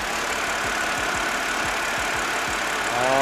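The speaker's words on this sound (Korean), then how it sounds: "제가 현재 엔진이 풀 가동되면서 에어컨까지 돌아가 있는 상태인데" A BMW 528i engine idles steadily up close with the air conditioning running, a rhythmic low ticking pulse under a broad whirring hiss.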